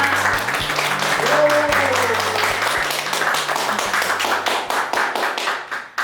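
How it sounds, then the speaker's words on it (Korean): Participants at an online youth leadership launch ceremony clap to open the event, a steady patter of hands under a low droning tone and a brief vocal cheer, thinning into sparser, distinct claps toward the end. "여러분 박수와 함께 시작해볼까요?"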